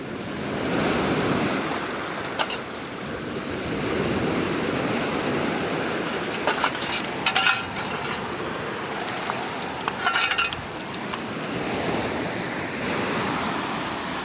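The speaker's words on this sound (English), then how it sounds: "waves, don't come up here" Waves wash onto a Lake Michigan beach in Wisconsin with a steady roaring surf and wind buffeting the microphone, broken by a few brief knocks and rustles nearby.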